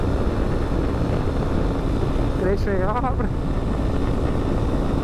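A Honda Sahara 300 Adventure motorcycle that is not yet broken in rides at speed, with loud, constant wind roar and engine drone and a brief voice speaking in the middle.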